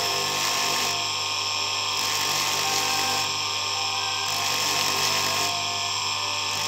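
Continuous high-pitched whirring grind of a rotary tool sanding a ring made of brass, copper and white alpaca with 360 grit sandpaper, steady and close with slight periodic shifts in intensity, no talking.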